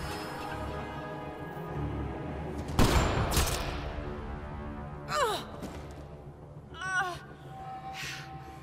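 Sniper gunfire in the video game Mass Effect: Andromeda, a single sharp crack near the start followed by short whooshing effects amid a musical backdrop and low rumble.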